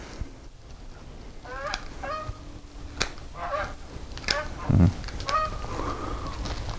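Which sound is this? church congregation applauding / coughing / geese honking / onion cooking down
geese honking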